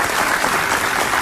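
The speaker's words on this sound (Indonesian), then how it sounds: "kita kasih tepuk tangan sekali lagi buat Kaila yang keren banget." Dense, loud audience applause fills a television studio, a continuous wash of clapping from a crowd heard up close without speech.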